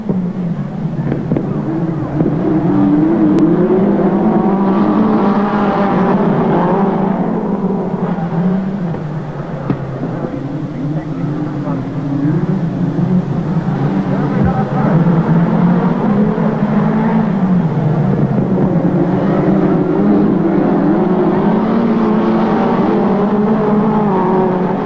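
Midget race cars roar away at the start of a race at Western Springs Speedway in 1984/85, their engines forming a loud, continuous, rising and falling drone.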